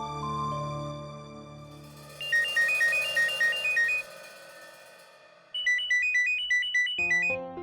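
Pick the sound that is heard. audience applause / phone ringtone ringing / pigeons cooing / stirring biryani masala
phone ringtone ringing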